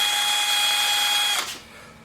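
A DeWalt cordless drill whines steadily while straining to turn a 1958 Tecumseh mower engine, then cuts off abruptly and spins down into quiet.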